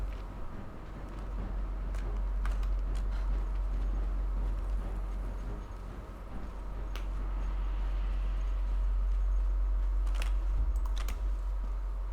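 Horse in the video game Conan Exiles, its hooves clip-clopping lightly over a steady low hum, with sparse clicks and no speech.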